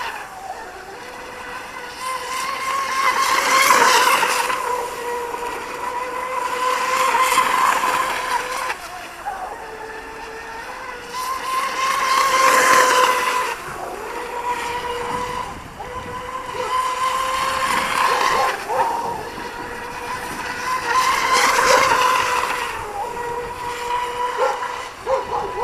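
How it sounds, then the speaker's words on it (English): Fast electric RC outboard boat motor whining steadily as the hull runs through turns, its pitch and loudness swelling and easing in repeated passes, alone with no voices. "Motor sounds very comfortable, even in the turns, not loading up as much."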